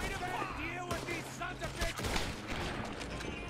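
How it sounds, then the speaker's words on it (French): Enemy gunfire from the Red Dead Redemption 2 video game rattles in bursts of sharp shots under someone talking in French, medium-loud and somewhat distant. "Il en reste un qui me tire dessus."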